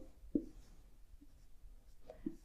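A pen writing an example by hand, a few soft scratchy strokes close by with pauses between, quiet and alone.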